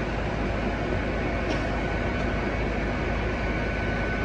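A train stands at Worcester station with a steady, loud broadband rumble and hiss that holds evenly throughout, giving a close, continuous railway ambience with no voices.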